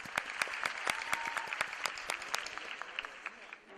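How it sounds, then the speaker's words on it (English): Audience at a pre-primary school annual day gives a round of applause, with individual claps distinctly audible in a lively, uneven rhythm that tapers off toward the end. "Please give them a huge round of applause."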